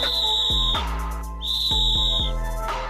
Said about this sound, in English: And you just heard the whistle right there